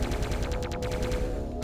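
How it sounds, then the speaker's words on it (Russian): Rapid automatic gunfire in a video game, a dense rattling burst of shots fired in quick succession, loud and close throughout the short stretch. "Выстрел зачем-то."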